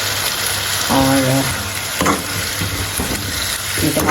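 A tomato mixture fries in a pan with a steady, loud sizzle, broken by scraping stirs and a brief tonal clatter from the utensil.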